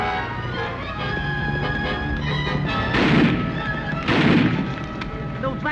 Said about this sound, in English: Those last shots, they came from Boomer's cabin.